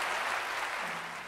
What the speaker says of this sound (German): ihr könnt ruhig mal für euch selber klatschen